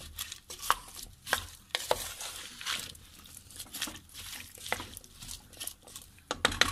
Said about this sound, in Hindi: अब हम इसे अच्छी तरह मिक्स करेंगे।